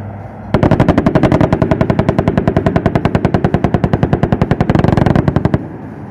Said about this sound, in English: Did you hear the gunfire?